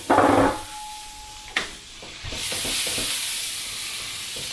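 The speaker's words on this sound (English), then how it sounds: "we just want to keep everything moving and stir frying it essentially." Vegetables hit a hot pan on high heat with a loud burst for fried rice, then a steady sizzle settles in, punctuated by scraping stirs and clatters close by.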